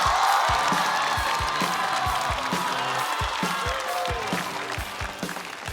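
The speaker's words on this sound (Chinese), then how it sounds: "掌声欢迎翟佳宁" An audience at a stand-up comedy show applauds to welcome a comedian, a dense, steady clapping with a few scattered cheers, fading slightly toward the end.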